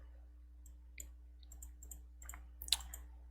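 Mouse clicks while connecting to a multiplayer game in the Godot engine: a handful of quiet, crisp clicks at irregular intervals, the last one sharper, with no talking.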